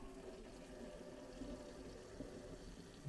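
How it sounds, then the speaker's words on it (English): Water running steadily from a newly installed Delta 400-DST kitchen faucet into the sink, a continuous, even rushing flow at close range with no speech. "We'll first run the faucet here."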